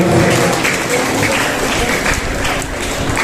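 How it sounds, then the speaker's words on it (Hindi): An audience applauds loudly to welcome KDA Chairman Haneef Sahab at a Sahara Charitable Trust event in Kolar, a dense, steady wash of clapping that fills the whole stretch without a break. "तालियों के साथ स्वागत कीजिए"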